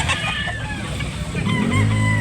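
A gamecock bullstag crows close and loud, a strained rising call rolling into a long drawn-out finish, with clucking and other fowl noise around it.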